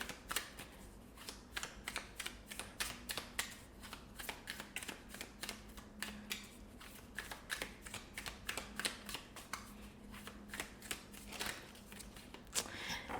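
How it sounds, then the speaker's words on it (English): Rapid, steady tarot card shuffling, a close and continuous run of crisp flicks and snaps at a moderate, even level, with no voices. "I feel like I need to do a one good shuffle for this one."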